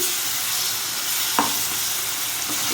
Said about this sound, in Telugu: పచ్చి వరకు పోయే వరకు ఇప్పుడు కొంచెంసేపు ఎక్కువసేపు వేయించకూడదు, కొంచెంసేపు